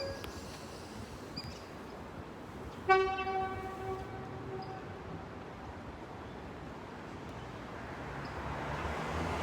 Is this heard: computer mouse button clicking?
no